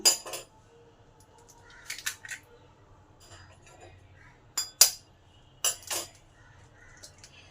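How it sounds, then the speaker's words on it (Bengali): Eggs cracked into a bowl while making a gluten-free breakfast: a few sharp taps and clinks in short bursts, with quiet pauses between them in a still kitchen. "এর মধ্যে এবার ডিমগুলো ভেঙে দিয়ে দিলাম"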